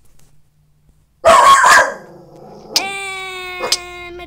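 A dog barks in a quick loud burst of a few yips, followed after a pause by a video game's tonal chime sounds.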